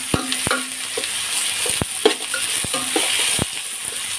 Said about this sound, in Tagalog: Nalagay na natin ang ating sibuyas.